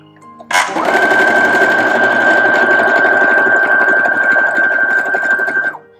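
A Brother FS101 sewing machine starts up and stitches in a loud, continuous run of rapid needle clatter with a steady motor whine, stopping abruptly after about five seconds, with no speech.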